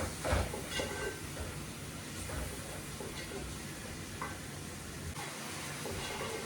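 Onions frying in a pan for fish gravy make a steady, quiet hiss with faint crackles that runs unbroken throughout.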